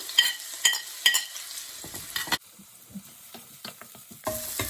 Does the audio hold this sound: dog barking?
no